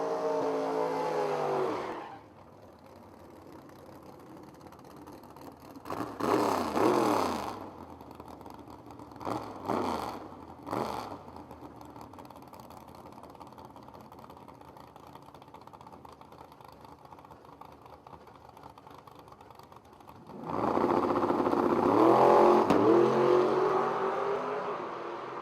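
Drag racing cars launching off a Pro Tree start, an Oldsmobile and a Mustang: loud engine roar at the start fades to a long distant drone with a few brief revs, then the engines swell loud again near the end.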